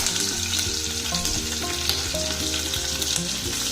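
Masala spice mix and two chopped green chillies fry in a pan for a home-style soybean curry, giving a steady, close sizzle throughout with music-like tones underneath and no voices.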